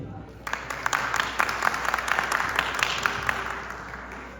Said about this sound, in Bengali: আরো একবার তার জন্য একটি হাততালি দিই।